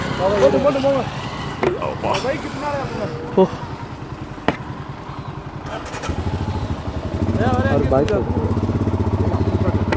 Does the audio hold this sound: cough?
no